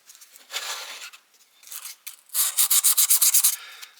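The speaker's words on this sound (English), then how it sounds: "I like this sandpaper because it's like heavy duty cloth backed" Heavy-duty cloth-backed sandpaper rubs against the steel blade of an old Schrade Old Timer 33OT pocket knife in short strokes, finishing with a fast, rhythmic run of scrubbing passes.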